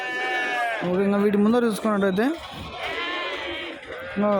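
Sheep bleat loudly and repeatedly at an Anantapur livestock market, their wavering cries overlapping with someone talking close by.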